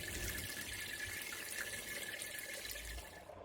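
Sparge water pours from a copper pipe to rinse the grains on a Vienna lager brew day. It makes a steady, soft, hissing trickle that goes on without a break and eases slightly at the end, with no voices.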